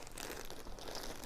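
Close, crisp crinkling of a plastic bag, continuous rustling and crackling with no talking.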